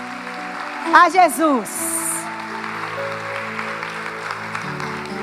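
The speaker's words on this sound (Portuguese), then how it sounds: "Dê uma salva de palmas bem forte" A church congregation applauds in a steady wash of clapping that runs through the whole stretch, with a brief burst of voices and cheering near the start and talk over the top.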